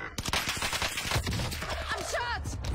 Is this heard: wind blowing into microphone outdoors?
no